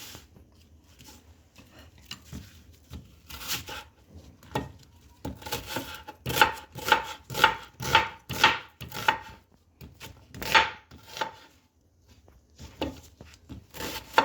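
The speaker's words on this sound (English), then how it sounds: "Chop all the onion." A knife chops an onion into small pieces on a cutting board, with light scattered taps at first and then a steady run of rhythmic, fairly close chops, then a few more cuts near the end.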